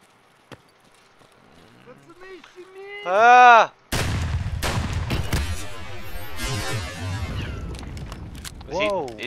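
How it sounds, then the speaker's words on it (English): A grenade blows up in the shooter game Escape from Tarkov: a sudden loud blast cuts in partway through, followed by a long, rough rumbling decay, with quieter tones and noises before it. "He threw a grenade at us."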